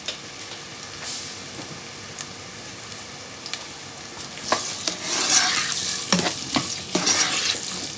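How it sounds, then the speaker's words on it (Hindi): Onion browns in oil in a pan, a soft, steady sizzle that grows busier and louder halfway through as stirring adds scraping taps and bursts of crackle. "और मेरे पास है वही प्याज, इसको मैंने इसमें मैं करूँगी ब्राउन।"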